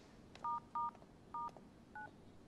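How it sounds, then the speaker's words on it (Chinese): Four short dial tones beep from a telephone as a number is keyed in, evenly spaced and clear against a quiet room. "我这里回客户一个电话"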